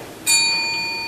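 Timer bell at a city council candidate forum, one bright metallic ding struck once and left to ring out with a slowly fading sustained tone, alone and close.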